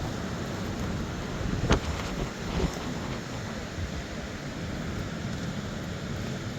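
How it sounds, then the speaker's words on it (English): Steady wind roars across the beach below Hordle Cliffs on a shore fishing trip, a constant loud rushing buffet over the microphone with a couple of brief gusty bumps. "Try and keep out the wind so you can hear me."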